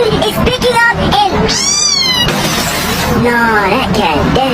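A cat meows loudly and repeatedly in a hurricane comedy sketch, its wavering cries rising over a constant roar of wind and excited talking voices.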